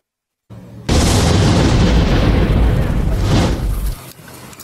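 Heavy, loud blast-like booming from a Russian-Uzbek joint military exercise at the Termez range near the Afghan border, a sustained roaring rumble that swells and fades over about three seconds.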